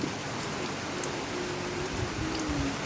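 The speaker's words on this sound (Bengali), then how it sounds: "প্রচুর পরিমাণে বৃষ্টি আমাদের এলাকায় 4-5 দিন ধরে" Heavy monsoon rain falls in a dense, steady hiss, drumming continuously on surfaces nearby in the hills of Kaptai, Rangamati, Bangladesh.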